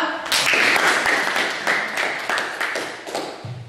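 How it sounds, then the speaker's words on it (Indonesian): Classroom applause for a student group after their presentation, a dense burst of clapping from many hands that swells quickly, holds steady, then thins and tapers off near the end. "tepuk tangan untuk kelompok 2"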